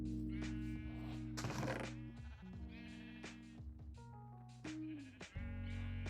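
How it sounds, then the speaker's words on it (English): Sheep bleating in a hardcore survival video game, a string of loud, wavering calls overlapping one another close by, with no talk over them. "Sheep go burr."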